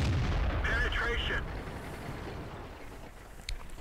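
A tank cannon fires in World of Tanks, from an M6 Tier VI heavy tank battle: one loud, heavy boom at the start rolls off into a fading rumble, with a voice briefly heard early on.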